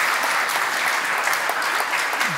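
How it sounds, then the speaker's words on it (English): A conference audience applauds at the close of a talk, steady dense clapping filling the room throughout, with no voices over it. "Big round of applause."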